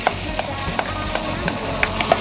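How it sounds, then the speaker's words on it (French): Pieces of shallot and peeled, chopped sweet potato cooking in melted butter: a steady close sizzle with faint stirring clicks and small pops scattered through, no talking. "On va donc faire fondre notre beurre et on va rajouter nos légumes coupés en morceaux"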